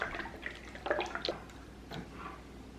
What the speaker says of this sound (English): It is time to dump our POR 15 in our tank, and then what we're going to do is we're going to just kind of slosh it around in there